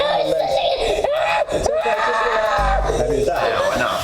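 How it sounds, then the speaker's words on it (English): A boy screams at the beach after a jellyfish sting, loud, close and sustained cries with a sharp, strained pitch that break and restart several times across the clip. "That poor father was watching his son scream for help"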